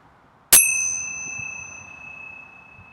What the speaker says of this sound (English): preparing to open your eyes as I ring the bell